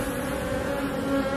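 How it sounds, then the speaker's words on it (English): Honey bees in a hive in Norway buzz around their queen, a dense, steady droning hum from many insects close by, sustained without pause and without voices. "See how the bees turn towards her when she's walking? They turn and face her."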